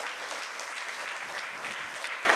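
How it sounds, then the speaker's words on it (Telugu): A church congregation claps in praise during worship, a brief burst of dense, continuous applause from many hands. "చప్పట్లు కొట్టి దేవుని స్తుతించు."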